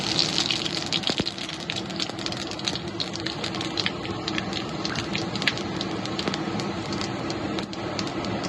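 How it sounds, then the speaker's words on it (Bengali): Dried red chili and five-spice (panch phoron) sizzle in hot mustard oil for a Bengali cauliflower-potato curry, giving a steady, dense crackling hiss throughout with a few sharper pops. "এবার আমি একটা শুকনো লঙ্কা ফোড়নে দিয়ে দিলাম, আর দিলাম কিছুটা পাঁচফোড়ন।"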